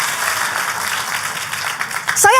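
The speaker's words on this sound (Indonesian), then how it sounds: "Tepuk tangan sekali lagi yang paling meriah buat Yesus Tuhan kita." A church congregation applauds for Jesus in a dense, steady wash of clapping, with a voice cutting in briefly at the very end.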